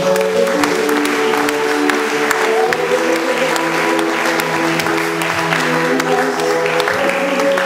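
A church congregation claps along steadily and loudly in rhythm during a worship song, with sustained singing and music underneath the continuous applause.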